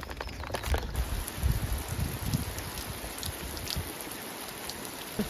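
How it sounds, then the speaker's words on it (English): Rain coming down outdoors in a garden under a thundery sky, thunder directly overhead, an even hiss of drops with some nearer irregular patters, no voices. "I have to escape the rain now."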